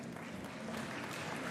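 Faint, steady applause from an awards ceremony crowd honouring engineering award winners, a continuous wash of distant clapping with no talk over it.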